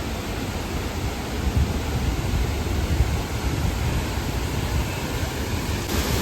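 Water roars steadily at the small waterfall at Thoseghar: a dense, continuous rushing that stays loud and even throughout, with no speech on top.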